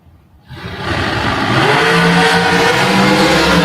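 A drag racing dragster from Hazelhurst, Georgia launches down the strip, its engine bursting from near silence into a loud, sustained roar that stays close and constant, with no voices.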